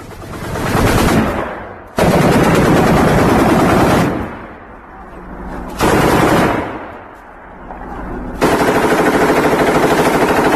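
A 7.62 mm PKT machine gun mounted on a BTR-80 armoured vehicle fires several long, loud bursts separated by short pauses, with echoing decay between volleys; no speech.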